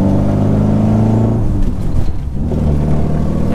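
A car engine droning loudly inside the cabin, the revs dropping and then climbing again as the driver shifts gears.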